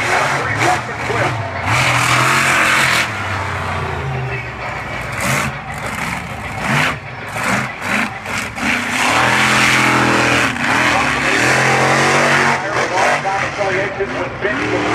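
Bigfoot monster truck engine driving around an arena at a monster truck show, loud continuous roar with rising and falling revs throughout, under an announcer's amplified commentary.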